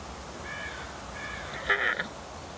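A crow caws outdoors, two moderate calls followed by a louder, harsher caw, fairly close, over a soft steady background hiss with no talking.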